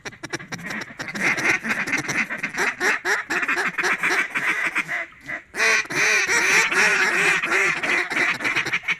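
Ducks quack and honk loudly and repeatedly in a busy flurry during a wood duck hunt, overlapping calls filling the air with a short lull midway before the chorus resumes.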